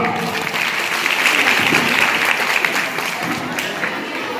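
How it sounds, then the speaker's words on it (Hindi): Audience applause fills a ceremony honouring women in Jhajjar, a dense, steady wash of many hands clapping close and loud for the full stretch without a break. "इनके लिए तालियां जोरदार।"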